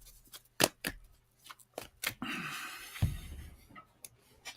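Tarot cards shuffled by hand during a live reading, with crisp intermittent snaps and riffles and a longer rustling sweep in the middle, close and fairly quiet.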